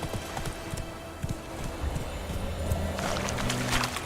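A horse gallops in the video game Witcher 3, with rapid rhythmic hoof clip-clops pounding steadily across the whole stretch. The hoofbeats are close and clear, and an ambient rumble sits beneath them.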